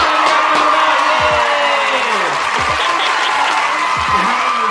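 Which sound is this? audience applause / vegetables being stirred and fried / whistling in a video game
audience applause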